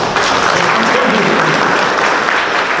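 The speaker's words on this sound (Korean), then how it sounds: "이걸 기부하시는 이런 분들을 위해서 박수 부탁드립니다" Sustained applause from a ceremony audience, dense and steady clapping throughout with a faint murmur of voices underneath.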